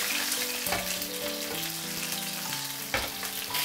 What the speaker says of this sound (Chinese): 我们煎的时候就开到中火，慢慢去煎它